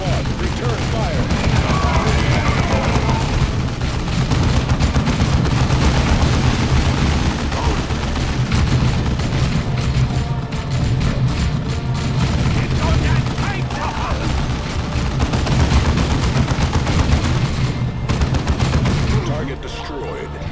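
A tactical squad of Space Marines returns fire in Warhammer 40k: Dawn of War 2, producing dense, sustained bolter gunfire and rattling bursts that stay loud and continuous for about twenty seconds, with voices calling out over the din.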